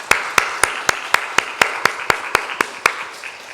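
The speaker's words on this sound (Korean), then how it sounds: "이들을 위해서 감사의 박수를 한번 하겠습니다." Clapping of thanks during a Sunday church service: a long run of about fourteen crisp, evenly timed claps in a steady beat, close and prominent over a faint room hum.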